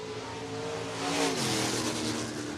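A race car on a qualifying lap at Lake Cumberland Speedway in Burnside, Kentucky roars steadily at full throttle, swelling slightly as it passes, with a continuous engine drone and no voices.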